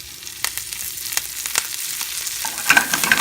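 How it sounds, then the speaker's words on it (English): Arugula tossed into a pan of golden, translucent frying onions, setting off a steady sizzle with scattered stirring clicks and scrapes that grow a bit louder toward the end, with no voices. "So now I'm going to add some arugula."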